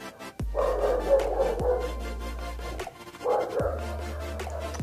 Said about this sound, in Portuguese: E barulho de cachorro no fundo